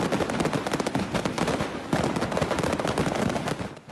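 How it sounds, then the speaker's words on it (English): Fireworks bursting in a burning fireworks factory in southern Russia, a dense, continuous barrage of sharp cracks and pops, loud and rapid-fire like crackling gunfire, with no voices. "The sky over southern Russia has erupted in colour when a fireworks factory caught fire."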